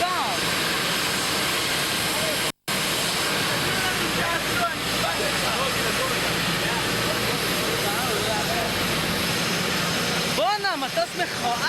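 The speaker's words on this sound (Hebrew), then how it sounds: "בואנה, מטוס מכוער!" A very large jet airliner roars steadily close by at a Turkish airport, its broad engine rumble continuous throughout, with excited voices talking and shouting over it.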